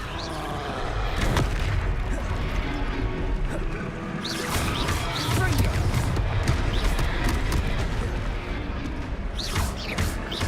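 The Confringo fire spell goes off in Hogwarts Legacy as a couple of booming blasts amid busy combat noise, with game voices talking over the action.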